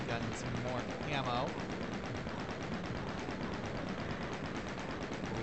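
A chain gun in the video game DOOM II fires as a rapid, steady stream of repeated shots, with monster growls and a brief voice over the first second or so before the gunfire runs on alone.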